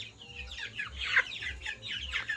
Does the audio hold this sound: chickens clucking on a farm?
yes